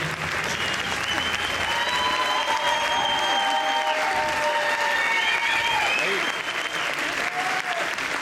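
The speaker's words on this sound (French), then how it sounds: "applaudissez-le bien fort" An audience gives sustained, loud applause for a film director being introduced on stage, a dense steady roar of clapping with some cheering tones rising above it throughout.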